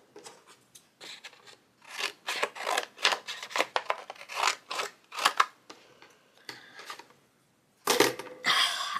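Scissors snip through card-making paper at a crafting table in a series of close, crisp cuts with short pauses, ending in a louder burst of paper handling.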